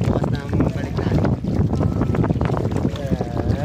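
A small fishing boat motors out onto the water near Bucana and Calayo, its engine churning under gusty wind noise while people talk nearby.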